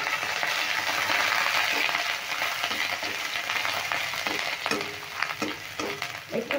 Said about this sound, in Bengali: একটু নেড়ে ভেজে নিচ্ছি।